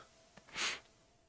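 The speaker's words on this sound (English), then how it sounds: "Sorry for, like, some sniffles or whatever in this video. I've got a little bit of a cold going here." A person with a cold gives one short, breathy sniffle, close and fairly soft, over a quiet background.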